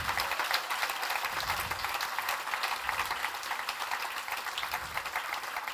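An audience applauds a guest speaker, steady moderately loud clapping from a room of people with faint murmuring beneath.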